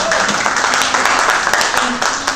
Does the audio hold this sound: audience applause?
yes